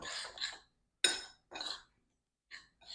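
Monkey bread ingredients being stirred in a bowl produce a few short, bright clinks and scrapes of utensil against the dish, separated by moments of near silence, close and fairly quiet.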